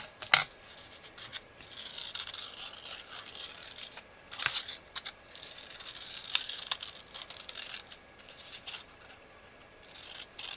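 Scissors fussy-cutting a paper image for a craft journal, soft quiet snips and paper rustles repeating irregularly at close range with no talking.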